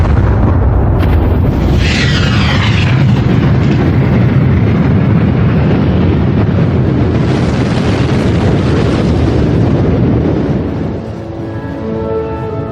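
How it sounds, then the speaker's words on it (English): A supernova, a massive exploding star, is rendered as a loud, continuous roaring blast of rushing, eruptive noise that holds steady for about ten seconds before thinning out. "These exploding stars, or supernovas, send out the elements of life."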